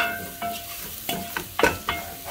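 Garlic cloves fry in a non-stick sufuria, a quiet sizzle running underneath as a utensil scrapes and clicks against the pan in several irregular stirring strokes.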